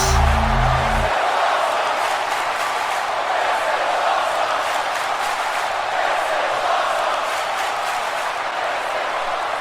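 A video game wrestling arena crowd in WWE 2K18 cheers and roars in a steady loud wash throughout, after a brief low tone at the start.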